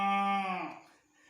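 A child imitating a cow with a single drawn-out vocal moo, clear and harmonic at first, then fading and breaking off, heard alone in a kindergarten Eid al-Adha classroom setting.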